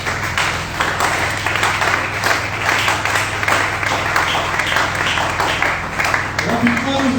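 A church congregation applauds with dense, continuous clapping that holds steady throughout, filling the room at a fairly loud level.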